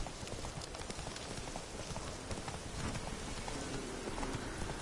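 Hooves of Roach, Geralt's horse in The Witcher 3 on PS4, pound in a steady, fast gallop that stays close and fairly loud through a dense, noisy wash of sound from start to finish.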